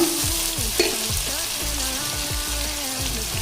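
Onions frying in oil give a steady, close sizzle with occasional stirring clatter, while a low tonal hum with sliding pitch sounds underneath.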